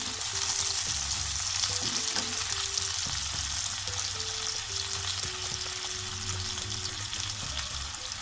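Sliced onions, green chilies, ginger-garlic paste and spices frying in soybean oil for a home-cooked lunch, a steady close sizzle with faint clinks and stirring throughout, no voices.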